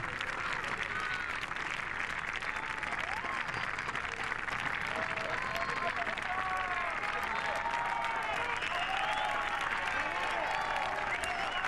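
Sustained applause and cheering from a large golf gallery at the DP World Tour's 2022 Acciona Open de España, a dense, even wash of clapping with scattered whistles and shouts carrying on without pause.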